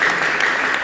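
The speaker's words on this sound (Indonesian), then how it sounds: "tepuk tangan yang meriah" Enthusiastic clapping from a group of students at a church youth retreat, a brief, dense, steady burst of applause.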